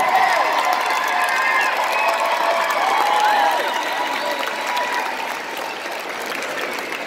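Audience at a Cleveland Tower City Center performance applauds and cheers steadily for a Toy Soldier act, a dense wash of clapping with scattered shouts, moderately loud and continuous throughout.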